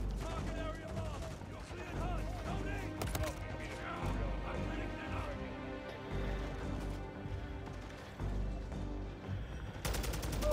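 Machine-gun turrets rattle off bursts of automatic fire during a chaotic zombies-mode shooter match, the shots sitting in a dense, loud mix of game sound and music throughout.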